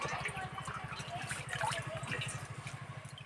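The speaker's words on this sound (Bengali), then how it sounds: "আমি এরকম করে শাকগুলো দুবার ধুয়ে নেব।" Helencha greens are washed in water: continuous splashing and sloshing with a steady rhythmic churn, close and moderately quiet, with light trickling on top.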